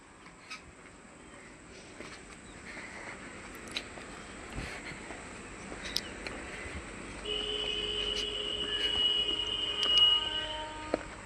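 A goods train passes along the line with a steady low rumble of wagons and wheels, a thin squeal rising in the second half, and scattered clanks, heard from trackside.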